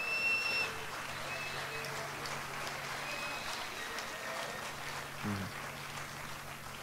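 Audience applause at a live jazz festival concert in Santiago de Chile, a soft, distant patter of clapping that stays steady through the clip, with faint voices in the room.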